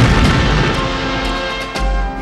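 Gunfire and booming shots right after a shouted order to fire, loud and dense, with a heavy low burst near the end and no talk over it.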